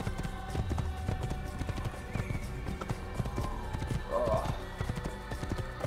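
Horse hooves clip-clop in a quick, steady gallop in the video game Assassin's Creed, with a brief whinny and some speech in the background.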